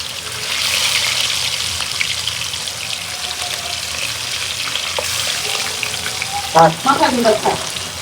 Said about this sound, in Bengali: সব মাছগুলো ভাজা হয়ে নেয়